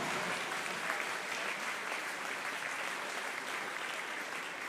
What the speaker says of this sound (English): can we have a round of applause for everyone supporting swimming in Hertfordshire?